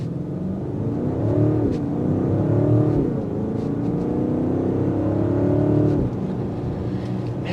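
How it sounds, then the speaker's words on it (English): The twin-turbo V8 exhaust of a 2025 BMW X5 M60i in Sport Plus mode revs up and holds a loud, rumbling drone, rising and falling twice, close by with no speech. "And that exhaust note, it's just a symphony"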